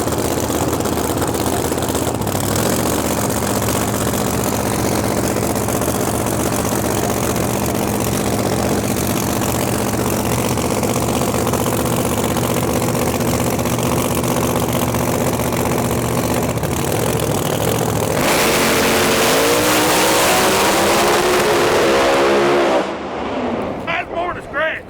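Pro Mod drag car engine idling with a deep steady drone, then a harsh rev burst near the end before cutting off, with voices talking over it.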